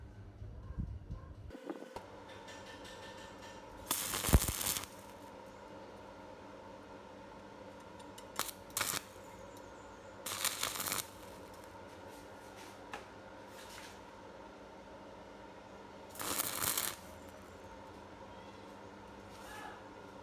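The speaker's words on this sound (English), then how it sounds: "I will weld together." A 12 mm bolt and nuts being welded for an RC metal excavator idler: three short, loud bursts of harsh crackle, spaced several seconds apart, over a quiet steady hum.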